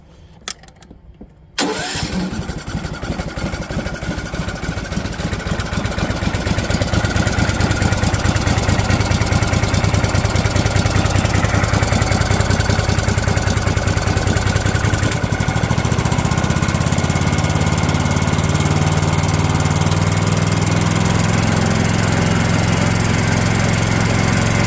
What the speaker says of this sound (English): Playing with the ignition, let's see.